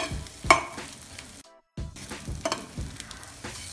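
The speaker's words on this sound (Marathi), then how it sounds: "हे सगळं मिश्रण अशा पद्धतीने एकत्र करायचं आहे आणि 2 मिनिट गॅसवरती ठेवायचं आहे।" Scrambled egg mixture sizzling in a pan on a gas stove while being stirred, with a steady frying hiss and scraping strokes, a brief dropout midway, no voices.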